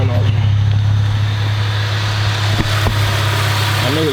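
A car engine idles steadily in neutral with its clutch pedal pushed in, a constant low hum running throughout with a brief clunk near the middle, while someone talks over it.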